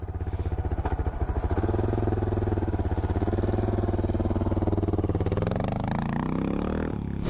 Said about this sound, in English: Wheel spinning.